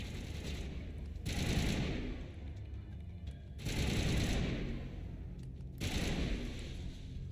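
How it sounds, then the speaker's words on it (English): Turret gunfire in the Mass Effect video game: three sustained bursts of rapid automatic fire, each lasting about a second or two, loud and close, separated by short lulls. "Dude has turrets in his office."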